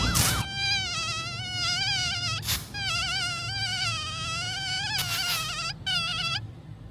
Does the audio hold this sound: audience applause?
no